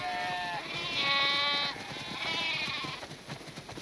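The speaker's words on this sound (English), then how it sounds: "Wow, that's a lot of sheep." Several sheep bleat in a barn on a farm in the video game The Last of Us Part II, overlapping, drawn-out cries, loud and close, with no talking.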